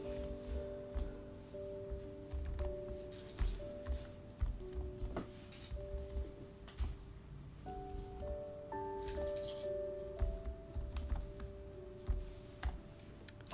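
Close, steady typing on a computer keyboard while sample values are entered, with irregular clicks and key taps over a faint steady hum and no speech.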